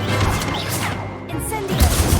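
A Stupefy spell cast in the Hogwarts Legacy video game, a dense crashing magical blast with whooshing layers and a couple of heavy low thumps near the end, loud and continuous in busy combat.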